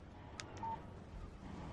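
A text message alert from a phone in the Alan Wake video game on Xbox 360, a pair of short bright chimes near the middle, sounding alone over a low ambient background.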